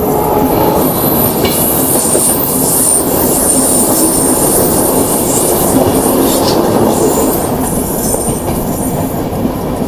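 Palace Queen Humsafar Express, train 19668, rolls into Belagavi railway station with a loud, close, steady rumble, rhythmic clickety-clack of the wheels and high wheel squeals over the carriages, with no voices.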